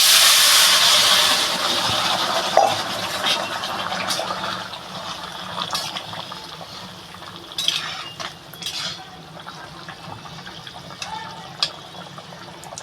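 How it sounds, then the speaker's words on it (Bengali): Vegetable curry with flat beans and eggplant is poured into hot oil tempered with grated ginger, bursting into a loud sizzle that gradually settles into a softer hiss with occasional spoon clinks and scrapes. "এই আদাটুকু ফোড়নে দিয়ে দেবো আমি এবারে তরকারিটা ঢেলে দেবো"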